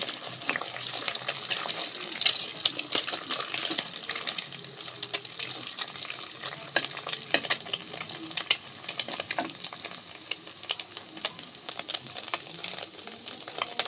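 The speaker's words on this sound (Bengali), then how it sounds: "ডিমটা আমার ভাজা হয়ে গেছে" Egg frying in a pan for street-style egg chowmein, a steady close crackling sizzle with sharp spatter pops and scraping stirs throughout, no voices.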